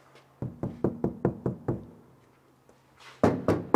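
Knuckles rap on the door panel of a Volkswagen Crafter camper van to compare a sound-deadened door with an untreated one. A quick run of about seven close knocks is followed by a pause, then three more louder, resonant knocks.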